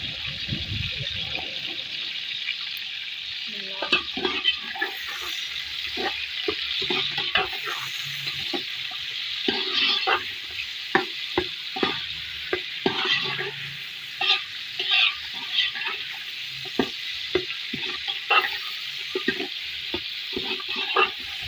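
Chicken frying in oil in a pan, with a steady sizzle and repeated scraping stirs at an uneven rhythm, close up, for about twenty seconds, with no voices.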